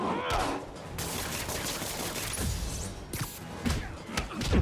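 Gunfire in the Spider-Man PS4 video game, a dense, continuous crackle of shots and impacts with sharp bursts scattered throughout, loud and close with a busy game soundtrack beneath.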